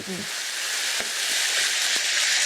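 Boneless beef short rib sizzling in a small pan, a loud, steady frying hiss with a few faint pops, heard alone without talk.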